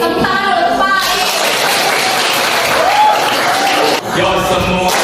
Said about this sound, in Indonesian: Tepuk tangan dulu Pak Is.